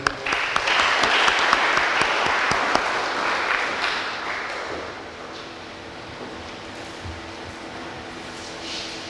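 Dense audience applause fills a conference-debate hall, loud and sustained for several seconds before thinning and fading into a quieter room.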